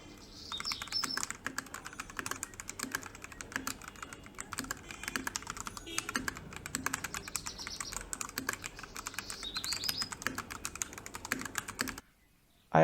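Rapid, continuous typing on a Royal Kludge RK84 mechanical keyboard after a foam mod, dense muted keystrokes close up for about twelve seconds before stopping.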